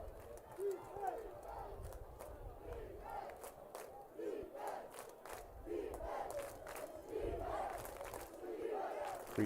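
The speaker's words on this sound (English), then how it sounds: "Crete cheer squad and students helping get the defense ready for this 3rd and long play." Cheer squad and students chanting and yelling in rhythmic bursts from the stands at a high school varsity football game, Crete vs. Mt. Michael, with a steady crowd roar underneath.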